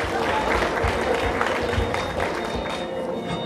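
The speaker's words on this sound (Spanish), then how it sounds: "Fuerte los aplausos, por favor, para este momento mágico e inolvidable." Guests applaud at a civil wedding ceremony, a loud, dense burst of clapping from a gathered crowd that holds steady throughout.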